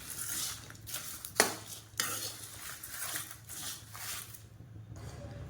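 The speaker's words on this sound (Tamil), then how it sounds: "எல்லாத்தையும் சேர்த்து வறுத்துக்கலாம்." Whole biryani spices such as cloves, dried red chillies and bay leaves are stirred and dry roasted in a pan, with a soft, continuous scraping rustle and a couple of sharper utensil knocks, no voices.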